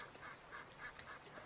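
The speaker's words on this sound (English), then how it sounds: "She liked watching the ducks. They quacked and quacked." Ducks quack repeatedly at a duck pond, a faint, evenly spaced run of calls with no voices.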